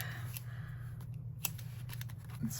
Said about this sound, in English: now I need to trim that, and then we can trim our edges